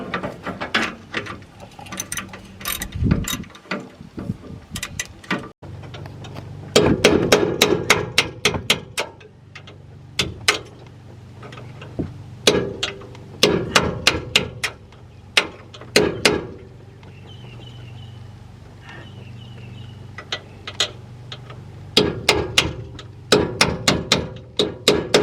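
Repeated sharp metallic strikes hammer a chisel against a sway bar bolt under a vehicle during a lift kit install, coming in irregular bursts of rapid blows separated by short pauses, close and loud.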